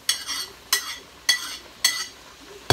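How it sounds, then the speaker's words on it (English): Peppers go into a pot of vegetarian baked beans and are stirred in, five evenly spaced scraping, wet strokes of a spoon against the pot, close and clear with no talking. "So go ahead and put your peppers in there."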